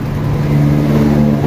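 Suzuki Burgman Fi scooter engine freshly given a top overhaul, revving loud and close with a steady droning hum that swells slightly midway, no voices.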